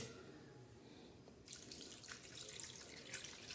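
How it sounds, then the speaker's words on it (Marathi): Tap water runs into a bowl of finely chopped coriander to wash it, a steady bright splashing stream that starts partway through after a quiet moment, close and continuous. "असं पाणी टाकायचं, स्वच्छ अशी मस्त आता धुवून काढणार आहोत"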